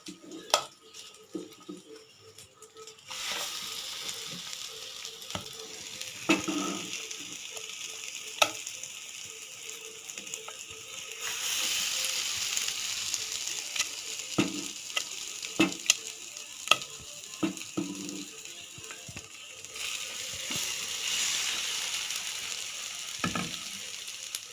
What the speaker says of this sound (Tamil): இப்போ டோஸ்ட் பண்ணி வச்சுக்கிற ப்ரெட்டை இந்த முட்டை கலவையில் 2 பக்கமும் நல்லா டிப் பண்ணி தோசைக்கல்லில் போட்டுடலாங்க.